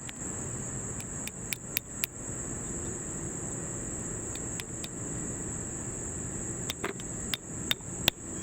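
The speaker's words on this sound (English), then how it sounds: "You can also just hammer the new one on" Sharp metallic hammer blows knock a new CV axle boot into place on a 100 Series Toyota Land Cruiser, landing in irregular bursts of two to four strikes over a steady high insect-like whine and background hum.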